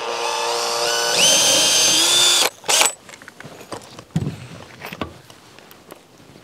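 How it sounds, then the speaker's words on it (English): A power drill drives screws through a wooden door header on a chicken coop, a loud sustained whine that ramps up, stops after a couple of seconds, then gives a brief second burst before quieter knocks and handling noises. "I like putting the screw on the header, going through the header rather than going down from the header"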